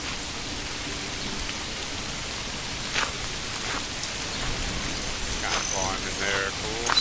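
Steady rain falling in the medieval game Manor Lords, a dense even hiss of drops on the ground with a few brighter splashes and rustles near the end.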